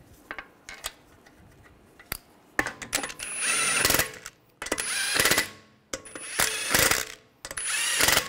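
Lug bolts being snugged down on a 2009-2010 BMW 5 Series front wheel, a series of close, loud ratcheting and whirring bursts separated by brief pauses, with sharp metallic clicks between them.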